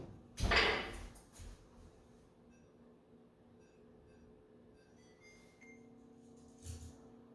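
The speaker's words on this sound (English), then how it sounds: "we're going to throw this back in the oven now for 25 minutes" An oven door shuts with a single loud thud after lemon bars go in to bake, followed by quiet kitchen background and a faint later knock.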